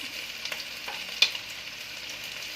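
Onions frying in a pan for adobo, a soft steady sizzle with a few light knocks and one sharper clack of a utensil partway through, close by and without talking.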